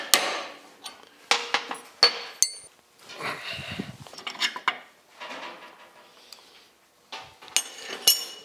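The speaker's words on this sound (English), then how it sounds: "we put this through the hole, we take the hammer and tap it down" A hammer taps a metal clip down through a hole in a handmade shaker scoop for a 1956 Chrysler 300, giving a string of sharp close metallic knocks and clinks in uneven bursts with short pauses between.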